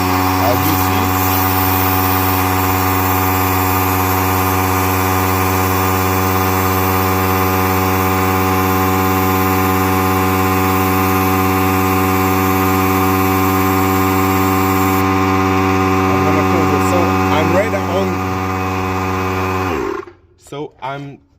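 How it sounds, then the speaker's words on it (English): A tiny air compressor drives a coolant vacuum refill tool on a 2015–2021 Kia Sedona/Sorento, a loud, steady droning hum with strong tonal whine running continuously before cutting off abruptly near the end. "I'm gonna let my compressor run a couple of seconds to give a chance to suck everything, because this is a really tiny compressor"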